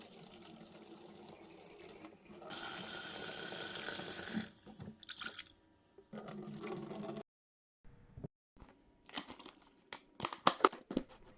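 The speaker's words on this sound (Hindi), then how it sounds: "लेटिस को अच्छे से धो लेने के बाद मैं इसका यहाँ पे पानी ड्रेन आउट कर रही हूँ" Lettuce is washed under a running tap, with a steady stream of water hissing into the sink, then rustling and crinkling leaves and scattered drips and knocks, fairly quiet and with no talking.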